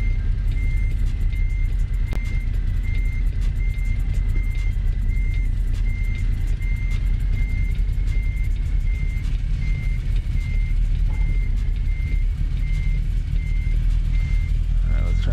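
A truck reverses slowly under a trailer, its backup alarm beeping in a steady, evenly spaced pattern over a loud, constant diesel engine rumble, with a person talking intermittently nearby.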